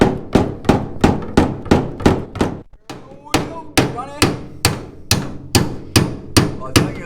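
A hammer drives a worn pin out of a 1934 Plymouth, striking about thirteen loud, close, evenly spaced metallic blows with one short pause, and no voices over the strikes.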